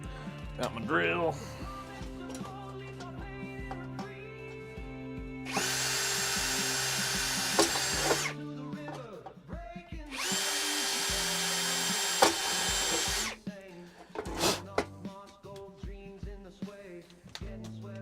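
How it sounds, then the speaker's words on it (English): A power drill drilling into wood whirs loudly in two sustained bursts of several seconds each, with quieter handling clatter and shuffling between them. "got my drill."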